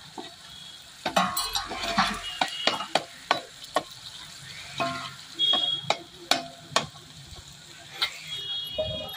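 Onion, tomato and garlic sizzle in hot oil as a tempering while a spoon stirs and scrapes the pan in irregular clinks and knocks, close up and fairly loud.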